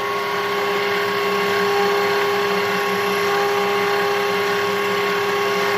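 A metal lathe cuts a chamfer on a machined ring, giving a steady, loud, close mechanical drone with a constant tonal hum and no pauses.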